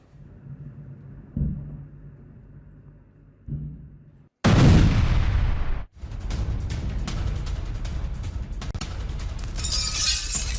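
Loud blast from an attack on an oil refinery in Moscow, a sudden heavy burst that cuts off sharply and is followed by a sustained roaring, crackling rumble with no talk.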